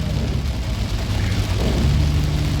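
Heavy rain pours in a steady, dense roar with a low rumbling undertone, continuous and fairly close throughout, with no voices.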